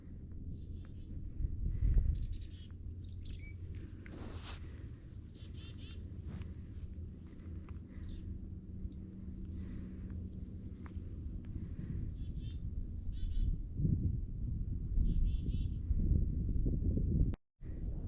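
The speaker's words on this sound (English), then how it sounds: "Just listening to the birds." Faint bird chirps and calls scattered through a quiet outdoor scene, with low rumbling background and a few soft footstep-like thuds.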